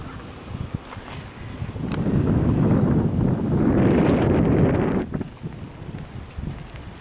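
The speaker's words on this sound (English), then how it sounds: "on a day like today, the sound of the wind" Wind gusts across a quiet trail beside the Kiski River, swelling into a broad, steady rush from about two to five seconds, then easing back to a softer, buffeting breeze against the microphone.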